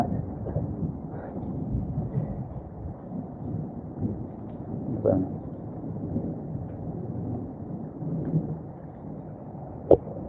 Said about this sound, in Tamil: இந்த மழை பெய்யுது பார்த்தீங்களா